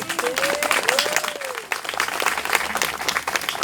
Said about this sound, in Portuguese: Aplausos para ele.